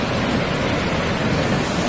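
Nang Rong waterfall in Nakhon Nayok pours in a dense, steady roar of rushing water, loud and continuous with no voices.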